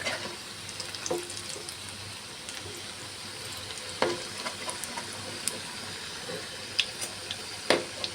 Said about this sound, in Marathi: की दुसरी बाजू पलटून घेते फ्राय करण्यासाठी